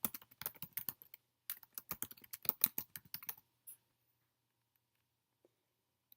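Keys clatter on a computer keyboard in quick bursts of typing, close and distinct, with a short pause in the middle and then near silence except for a couple of faint clicks.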